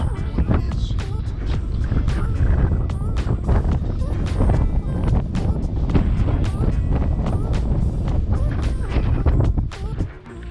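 Strong wind buffets the microphone at the Mersey Bluff lighthouse on the Tasmanian coast, a loud, continuous roaring rumble with gusty bursts throughout.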